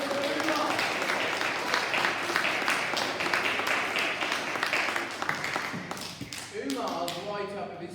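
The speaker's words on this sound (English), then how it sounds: "We round of applause for Umar." Applause for a pupil at a school celebration assembly, a dense patter of many small hands clapping in a hall, fairly quiet and tapering toward the end as a voice begins to speak.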